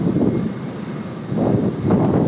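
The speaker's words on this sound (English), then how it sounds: "Lovely long takeoff roll there from Asiana." An Asiana Airbus A380 on its takeoff roll at Sydney Airport, a steady loud roar of jet engines with gusting wind across the microphone, swelling slightly toward the end.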